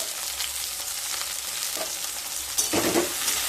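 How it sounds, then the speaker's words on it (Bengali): Eggplant pieces coated in salt and turmeric sizzle steadily in a frying pan over medium-high heat, with soft scraping stirs and a louder burst of frying near the end; no talking. "হলুদ আর লবণকে বেগুনের সাথে ভালোভাবে মিশিয়ে নিয়ে এবার মিডিয়াম টু হাই স্টিমে বেগুনগুলোকে ভেজে নেব"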